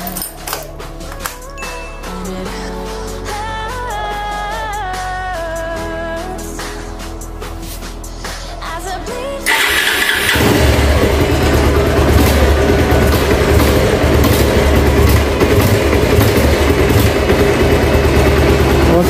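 A Bajaj Pulsar 180 UG4 motorcycle engine runs loud and steady with a constant low rumble, starting abruptly halfway through after a stretch of music.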